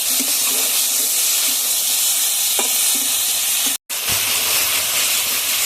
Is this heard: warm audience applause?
no